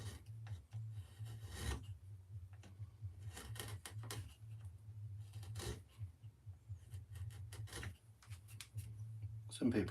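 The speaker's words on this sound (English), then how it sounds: "Some people like the sound of the chisel." A wood-carving chisel cuts into wood with repeated short scraping strokes in uneven bursts, close and fairly quiet, while a low voice murmurs in the background.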